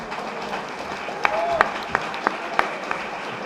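A lecture audience on discipline in condominium property gives a steady wash of applause at the close of the session, with a few sharper claps or knocks standing out and faint voices mixed in.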